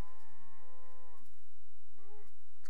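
Minecraft cows moo twice in the video game, two drawn-out tonal bellows separated by a short pause, loud and clear with no talk over them.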